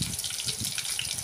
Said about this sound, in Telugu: వాటర్ వేసి ఆ వాటర్ పోసుకోవాలి.